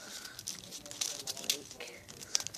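Paper being creased and folded for a tri star, with short crinkly crackles and taps that come and go close by, under a person talking.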